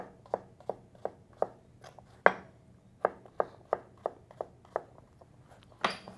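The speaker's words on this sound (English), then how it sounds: "Then I'm gonna cut it into small diced pieces." A knife dices zucchini on a cutting board in a run of about fifteen crisp chops, mostly evenly spaced, close and clear against a quiet background.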